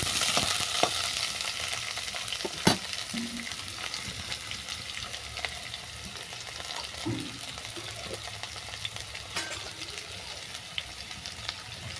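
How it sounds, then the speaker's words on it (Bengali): Vegetables fry lightly in a pan for a crab curry, a soft steady sizzle with scattered clicks and spatula knocks against the pan, close and even, no voices. "ঝোলের সবজি একটু ভাজবো না হালকা করে ভেজে নেব"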